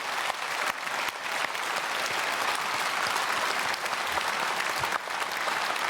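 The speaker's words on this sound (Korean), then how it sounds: "박수로 축복하겠습니다" A church congregation at a special dawn service applauds the children, dense steady clapping filling the room at full strength for several seconds with a few brief dips.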